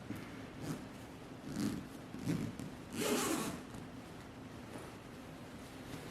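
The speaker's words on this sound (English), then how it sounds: "Let me zip it on up." A cold-weather sleeping bag zipper is drawn along in a few short rasping strokes, the last one longest and loudest, with soft fabric rubbing between them.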